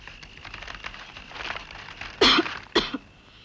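A man coughs twice in a domestic scene from a 1981 Hindi film, two sharp, loud bursts near the end after a stretch of quiet room noise, with no talking.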